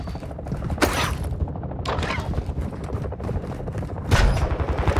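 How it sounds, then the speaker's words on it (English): Loud, sustained automatic gunfire in Call of Duty DMZ on Ashika Island, dense rapid bursts with sharp cracks at intervals and continuous rattling throughout. "You are taking effective fire"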